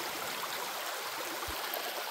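Spring water flows steadily from a spring beside a small footbridge, a continuous close rushing and gurgling stream with no voices.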